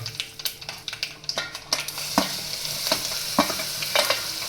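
Cumin, asafoetida and green garlic sizzling in hot oil in a pan for Gujarati dal dhokli, a continuous crackling fry punctuated by sharp spoon taps and stirring clinks against the metal.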